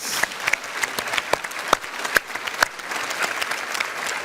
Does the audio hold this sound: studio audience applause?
yes